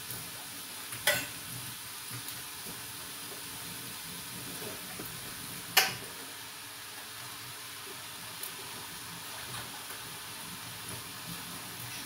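Chinese cabbage is being stir-fried for duck and chicken nems, a soft continuous sizzle and hiss broken by a few sharp clicks of a utensil against the pan, faint and steady with no talk.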